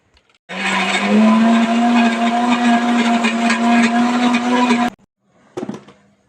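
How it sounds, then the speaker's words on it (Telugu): A mixer grinder blending cucumber and peanut chutney whirs loudly and steadily for about four seconds, its motor pitch rising slightly, then cuts off, followed by a brief second burst. "ఇప్పుడైతే మిక్సీ పడతానండి"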